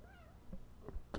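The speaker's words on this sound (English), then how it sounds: "She meowing." A real cat meows faintly a few times in a quiet room, with one short, sharper meow near the end, with no talking.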